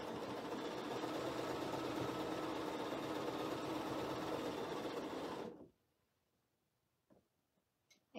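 A sewing machine runs steadily with a fast mechanical whir for about five seconds, then stops abruptly, leaving near silence and a few faint clicks.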